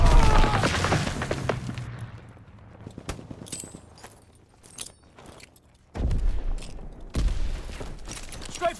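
A World War II strafing run in Call of Duty WWII: scattered sharp cracks and rattling give way to two loud, heavy bursts of gunfire near the end.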